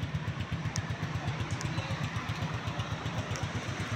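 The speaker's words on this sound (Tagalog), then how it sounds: "May bubuga tong motor na to. 125cc na kayang kuwan daw sumabay sa mga higher cc na branded din." A TVS Rockz 125 motorcycle with a 125cc engine idling nearby, its steady rapid thumping pulse continuous and even for the whole stretch.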